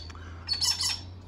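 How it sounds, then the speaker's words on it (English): A cockatoo gives a couple of harsh, raspy squawks at moderate distance, rising briefly over a low steady background hum outdoors beside a ham radio antenna setup. "don't excuse the noise in the background, that's our friendly cocky."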